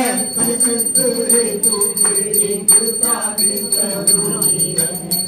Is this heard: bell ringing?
yes